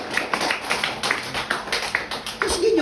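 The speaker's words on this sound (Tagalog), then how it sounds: "Sige yung palakpak." A small group clapping at a church gathering, sparse, rhythmic claps close by, roughly evenly spaced, with a voice briefly audible near the end.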